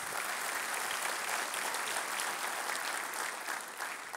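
Dense, steady applause fills the room from a civic event audience, sustained without a break and heard from a moderate distance.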